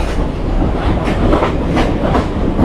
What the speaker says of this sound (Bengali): পাশে আরেকটা লোকাল ট্রেন যাচ্ছে।